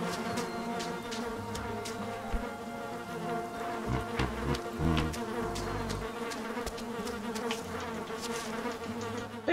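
A swarm of bees in the video game Candle produces a continuous, dense buzzing drone that swells and fades slightly, with no voices over it.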